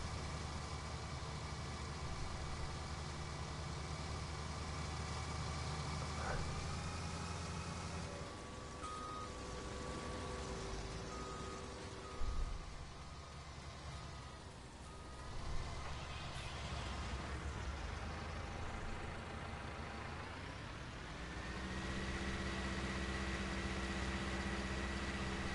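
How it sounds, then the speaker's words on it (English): Tractor engine in Farming Simulator 19 on PS4, idling and running steadily with a constant low hum, a brief dip and a couple of small bumps midway, no talking. "I might drive this tractor along with that exhaust pipe like that on the front."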